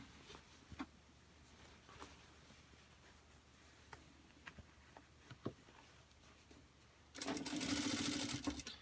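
A sewing machine stitches a bag strap in a sudden loud, steady whirring run near the end, after a quiet stretch of faint scattered taps and handling sounds.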